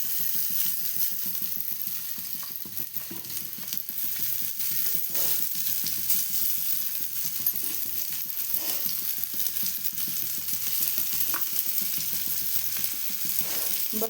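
Cluster beans (guar) frying in oil on a tava, giving a steady, close sizzle with faint scraping and crackling throughout, no voices.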